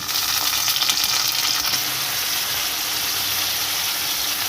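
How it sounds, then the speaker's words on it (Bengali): Fried potatoes sizzling in a pan with onion, ginger and garlic paste added, a loud, close, continuous crackling fry that rises briefly early on, then settles into an even hiss. "আলুগুলো ভাজা ভাজা হয়ে গেছে এর মধ্যে আমি যে পেঁয়াজ আদা রসুন বেটে রেখেছি এর মধ্যে দিয়ে দেব"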